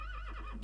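A horse in the Minecraft Mo' Creatures mod gives a short, close neigh with a wavering, whinnying pitch, heard alone.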